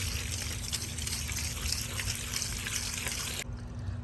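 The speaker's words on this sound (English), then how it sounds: "So we just spray them down and wash them" Steady rushing spray of water washing crawfish, continuous and fairly close, with a low hum underneath; the spray cuts off abruptly near the end.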